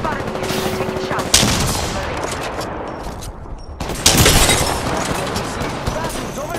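Dense gunfire in an Apex Legends match, rapid automatic bursts and loud cracks that fill the scene, with a voice speaking over the shooting.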